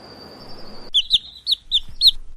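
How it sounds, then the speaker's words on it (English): Baby bluebird in a cartoon giving a series of five quick, high, bright peeps in an uneven rhythm, following a thin sustained whistle tone, close and clear over quiet background. "looks like baby bluebird has a peeping sound"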